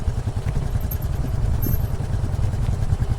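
An adventure motorcycle rolling over a bumpy, dusty dirt road, its engine a steady low rumble mixed with rattles and knocks from the rough surface, continuous and close.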